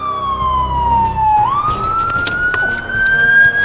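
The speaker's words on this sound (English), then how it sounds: "you hear that ambulance coming and you hear those sirens coming" A loud ambulance siren wails close by, its pitch sliding down and then sweeping back up into a sustained high tone.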